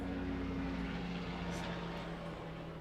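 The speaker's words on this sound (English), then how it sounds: "there goes a helicopter again" A helicopter passes overhead, a steady low rotor and engine drone holding throughout at moderate level, fairly distant and unchanging in rhythm.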